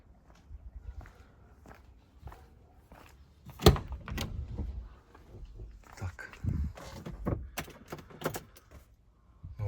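A heavy sliding door on a 2013 Renault Trafic van shuts with a dull thud, followed by shuffling, footsteps and a few more softer knocks and clunks nearby.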